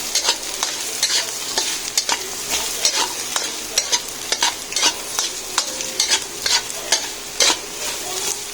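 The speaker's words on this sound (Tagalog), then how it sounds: "Antayin natin bumango yung ating luya para nagisa yung ating luya maigi." Ginger sautéing in a pan for chicken tinola: a steady close sizzle broken by repeated sharp scrapes and clanks of a utensil stirring, in an irregular rhythm throughout, with no talking.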